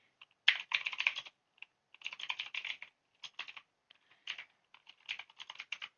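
Typing on a computer keyboard: quick, close bursts of light clicking keystrokes separated by short pauses, alone in a quiet room.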